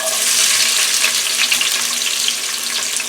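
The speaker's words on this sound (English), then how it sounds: "we're going to add the onions to the olive oil that's in the frying pan." Oil crackles and sizzles steadily in a frying pan as onions fry in olive oil, a dense bright hiss that stays close and even throughout.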